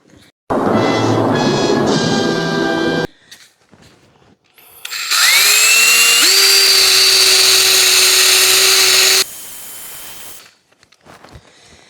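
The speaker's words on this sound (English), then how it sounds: "Got my Wizzy Wheel attached to the drill" A power drill fitted with a rubber eraser wheel whirs loudly in two long bursts while stripping adhesive tape off a car, its pitch rising as it spins up, with a brief quiet gap between runs.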